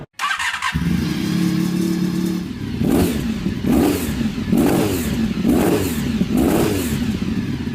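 A motorcycle engine at a two-wheeler show (Salon du 2 roues) idles briefly, then revs up repeatedly in a steady rhythm of loud, close throttle blips, with no talking.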